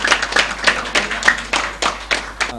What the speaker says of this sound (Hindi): हाँ, बस तालियां हो जाए।